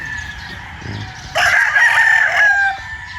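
A breeding rooster on a farm lets out a single loud, close crow lasting over a second, rising sharply from quiet background with faint clucks before it.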